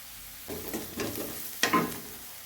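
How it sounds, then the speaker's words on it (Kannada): Onions frying in a pan after turmeric and salt go in, with bursts of sizzle and stirring scrapes rising and falling over a quiet background, nearby and moderately loud. "ಉಳ್ಳಾಗಡ್ಡೆ ಫ್ರೈ ಆಗಿದೆ ಇದಕ್ಕೆ ಇವಾಗ ನೋಡಿ ಅರಿಶಿನ ನೋಡಿ ರುಚಿಗೆ ತಕ್ಕಷ್ಟು ಉಪ್ಪು"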